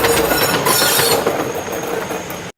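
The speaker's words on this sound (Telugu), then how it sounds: "రైలు వస్తుంది రైలు మీద ఎక్కిపోద్ది" A train arrives in an animated Telugu spoof of the Robo movie: a loud rumbling, clattering rush of rail cars with a metallic squeal that stops abruptly after a couple of seconds.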